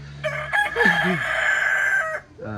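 A rooster at a cousin's house crows once, a close, loud cock-a-doodle-doo lasting about two seconds, with a short cluck at the start and end.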